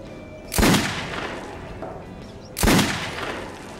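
Two loud, sharp gunshots in the video game Metro 2033 Redux, about two seconds apart, each with a short echoing tail over quiet background.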